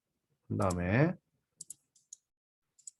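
A computer mouse gives sharp, faint clicks in quick pairs, a double-click followed by another pair, right after a voice speaks briefly.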